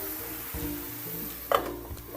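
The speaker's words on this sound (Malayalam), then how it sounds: "നന്നായിട്ടൊന്ന് ഇളക്കി കൊടുക്കുക" Stirring chopped elephant yam stalks with green gram in a pan: a soft, steady sizzle with scraping strokes, one sharper clack of the spoon against the pan near the end.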